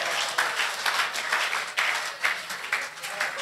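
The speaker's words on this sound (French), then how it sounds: "On applaudit la question, on applaudit la question." At a Christian conference on the believer's authority, a moderate crowd claps after a question, producing somewhat uneven, medium-loud applause with distinct individual claps standing out.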